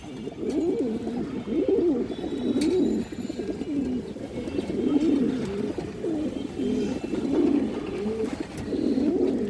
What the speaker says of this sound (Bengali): বিগ সাইজের এক প্যারা লাল চুল্লি কবুতর